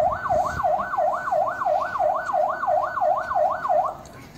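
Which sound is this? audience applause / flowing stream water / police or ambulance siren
police or ambulance siren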